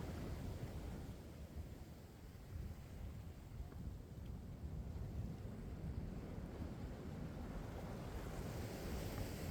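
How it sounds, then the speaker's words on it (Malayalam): Sea waves breaking near Chellanam fishing harbour in Kerala on a morning ride: a continuous low roar of surf with wind buffeting the microphone, steady and fairly faint throughout, with no talking. "ആ ഭാഗത്ത് നല്ല രീതിക്ക് തിര അടിക്കണ്ടായി."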